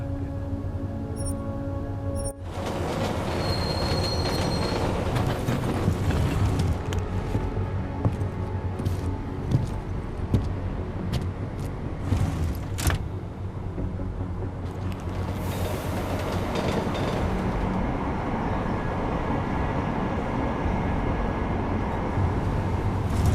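Deus Ex: Mankind Divided train car rolling along rails, a steady continuous rumble with rattling clatter that swells after the opening seconds and holds loud throughout.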